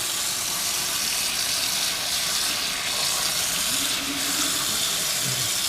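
Warm tap water runs steadily over a raw red snapper, a constant close hiss and splash with a low rumble beneath, holding even for the whole stretch with no speech.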